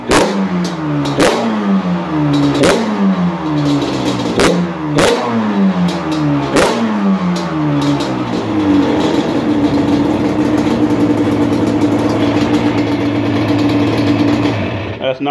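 A freshly ported Redline Play engine running on its first start, revved repeatedly in loud sharp bursts that climb and drop, and then settling into a steady high idle close by.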